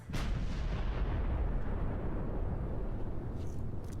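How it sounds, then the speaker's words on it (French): Enemy cannon in the video game Space Marine fires a sustained, loud booming barrage, deep rumbling blasts rolling continuously with no pause. "Ce satané canon."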